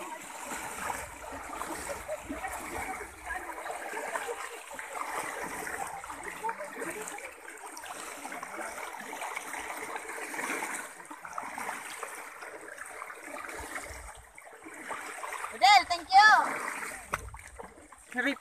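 A stream of water rushes steadily at Sapang Marara Falls, a broad continuous wash heard close by, with splashing and a few raised voices and shouts near the end.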